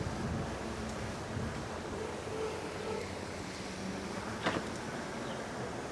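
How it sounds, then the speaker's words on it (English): Steady rumbling wind buffets the microphone throughout, a broad roar with a brief louder gust near the end; no voices. "It's super windy."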